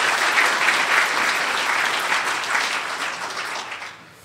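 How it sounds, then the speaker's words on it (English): An audience at a 2012 BComm university graduation ceremony gives a sustained round of applause, dense and even, that fades slightly toward the end with no voices over it. "please applause for them"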